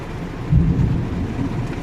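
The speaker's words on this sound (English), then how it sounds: "Y'all heard that thunder?" A deep, rumbling roll of thunder on a rainy day, heard from inside a car, swells and lingers, low and heavy, with a faint wash of rain beneath it and no talking.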